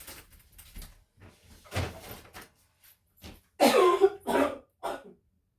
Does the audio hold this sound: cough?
yes